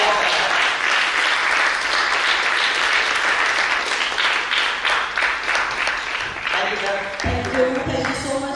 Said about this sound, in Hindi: तो जोरदार तालियों के साथ खड़े होकर के इनका शिक्षण निकालते हैं।